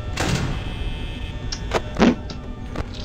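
A security door closing in the horror game Five Nights at Freddy's, heard as several close, dull mechanical thunks and slams, the loudest coming about two-thirds of the way through.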